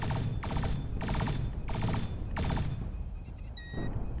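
Rapid bursts of gunfire in the video game Thrust and Shoot: Flight School, a 3-D Newtonian flight and combat sim, repeat in a steady rhythm, loud and close, followed by a few sharper electronic tones near the end.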